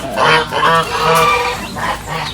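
A white goose honks repeatedly and loudly nearby, a series of harsh nasal calls in quick succession.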